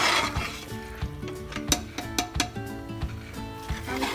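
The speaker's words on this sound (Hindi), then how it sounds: "हम इसको 15 मिनट से भून रहे हैं। थोड़ी थोड़ी देर में घुमाना पड़ता है, नहीं तो पूरा नीचे चिपक जाता है।" Lucknowi chicken biryani masala frying in a pot while a spoon stirs it, with soft sizzling under repeated scraping and clinking of metal on the pot, close and fairly quiet.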